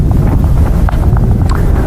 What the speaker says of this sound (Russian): Ветер невозможный сейчас.